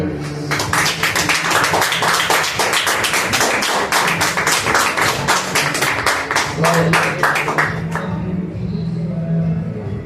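Congregation applauding in a church service, a dense, loud, steady wash of many hands clapping for about eight seconds before thinning out as a voice carries on over it.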